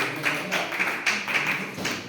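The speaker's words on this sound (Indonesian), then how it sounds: "boleh tepuk tangan sekali lagi untuk kelompok yang ini" A classroom of students applauds a presenting group, a steady patter of claps spread across the room at moderate loudness, with no voices over it.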